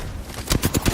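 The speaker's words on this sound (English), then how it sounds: "I am taking fire." Enemy gunfire striking the player in a squad shooter game, a quick volley of four sharp cracks in rapid succession, loud and close.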